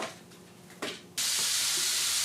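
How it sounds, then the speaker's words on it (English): Meat dropped into a hot frying pan for a cabbage roll casserole bursts into a loud, steady sizzle after a brief clatter, close and continuing to the end with no talking. "I'm going to put that into the frying pan and get it going over there"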